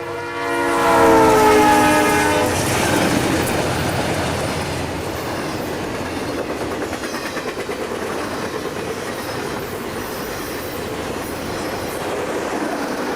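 A Conrail freight train, TV 550 running between Chicago and Syracuse, New York, sounds a loud horn blast and then rumbles past close by, wheels clattering steadily over the rails with a sustained roar.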